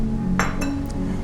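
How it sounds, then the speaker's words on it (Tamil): A large mixing bowl for keto idli batter is set down in a kitchen, giving two or three short, close clinks over steady background hum, with no talk. "மிக்ஸ் பண்ணுறதுக்கு ஒரு பெரிய பவுல் எடுத்துக்கோங்க."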